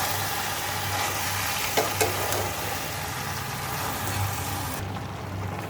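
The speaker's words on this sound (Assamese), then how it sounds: "এইখিনি ধুনীয়াকৈ লৰাই দিওঁ।" Malabar spinach greens spiced with mustard being stirred in a pan, giving a steady close scraping and sizzling rustle with a couple of brief utensil knocks, no talk.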